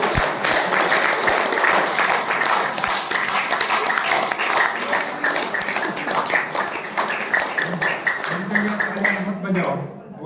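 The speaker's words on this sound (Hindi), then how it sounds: "तालियां बजाइए उनके लिए।" An audience at a talk claps for the couples present, a sustained round of applause that fades near the end as a voice starts speaking.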